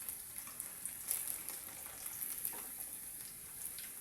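Cashew chicken fries in hot oil with a steady, quiet sizzle and crackle that continues evenly throughout, with no voices.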